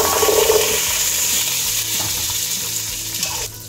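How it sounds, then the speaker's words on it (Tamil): Half a kilo of small shallots and a whole coconut sauté in a pan for fish head curry, giving a loud steady sizzle with intermittent stirring scrapes that eases toward the end, no voices heard. "நல்லா ப்ரௌனிஷ் ஆகிற வரைக்கும் நல்லா வதக்கிடுங்க"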